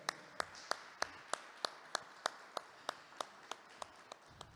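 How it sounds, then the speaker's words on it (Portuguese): Church congregation applauding Pastor Samuel after his sermon, sounding as a faint, distant series of crisp evenly spaced claps, almost metronomic, with a soft hiss underneath. "Mais uma calorosa salva de palmas ao pastor Samuel."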